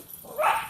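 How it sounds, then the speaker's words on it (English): Dogs barking at a squirrel, a single short muffled bark or yip heard indoors from some distance, faint and brief. "my dogs are barking at a squirrel"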